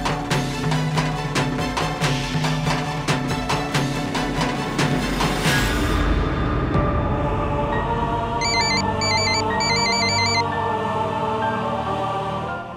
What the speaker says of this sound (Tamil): நதாஷா, நீ அவனுக்கு ஃபோன் பண்ணு